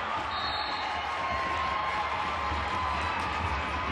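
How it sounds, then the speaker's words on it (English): A crowd at a 2006 high school girls basketball game between Cretin-Derham Hall and Central roars in a steady, busy wash of cheering and clapping, with sneaker squeaks and ball bounces mixed into the noisy gym. "And listen to this crowd."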